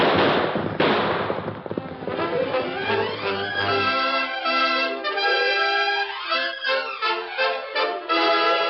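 A quick burst of sharp gunshots rings out in a radio drama Western, followed by a swelling orchestral music cue that carries on alone.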